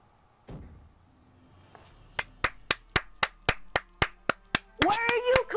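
Sharp clapping sounds in the ZOMBS video game, a run of about a dozen crisp, evenly spaced claps in a steady rhythm, following a brief thump and a short voice, then giving way to a louder burst of game sounds and shouting.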